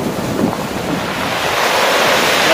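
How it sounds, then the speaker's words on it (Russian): Stormy Black Sea surf at Lazarevskoye crashes close by with strong wind buffeting the microphone, a dense continuous roar with no voices. "Да, неспокойно сегодня в море, неспокойно."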